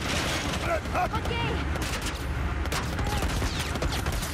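Rapid, continuous gunfire crackles in dense bursts during a firefight in The Last of Us Part I remake, loud and unbroken, with characters' voices mixed in under the shooting.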